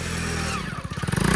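Homemade Indian motorcycle with a manual gearbox pulling away as the clutch is let out, its engine note rising from a low idle into uneven, pulsing revs with some mechanical clatter, close by.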